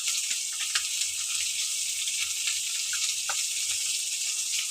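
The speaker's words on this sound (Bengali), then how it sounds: "এদিকে আমার মাছ ভাজা হচ্ছে" Katla fish sizzles steadily in hot oil in a pan, a dense, even hiss with occasional soft pops and crackles, close and alone without any talk.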